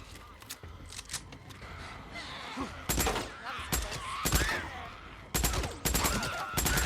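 Repeated bursts of loud gunfire from a rifle in the video game Days Gone, single sharp shots and short clusters spaced irregularly over background game ambience.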